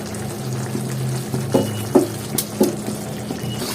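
Eggs frying in a pan being turned over with a utensil, a steady low sizzle underneath with a few soft scraping clicks and light taps as the pieces are flipped.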